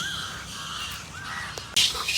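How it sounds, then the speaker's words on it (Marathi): Crows caw in a quiet, foggy rural spot: several rising calls at moderate distance over a soft ambient background, followed by a sharp louder burst near the end. "पक्ष्यांचा आवाज"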